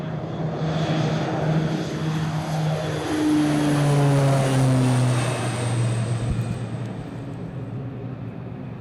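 A propeller aircraft flies over Greenland, its engine drone loud and steady with tones sliding downward as it passes nearby, then easing off toward the end.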